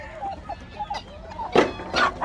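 Chickens on a farm clucking while eating soaked bread, a run of short clucks and squawks with a few louder bursts near the end, close and without talk.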